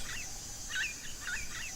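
Birds chirp in a short burst of high, repeated calls against a steady background hiss, moderately close, with no voices.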